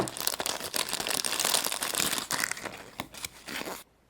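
Plastic wrapping around a small plastic Kung Fu Panda Shifu toy from a surprise egg crinkles and tears close up in quick rustling bursts, then stops abruptly, with no talking.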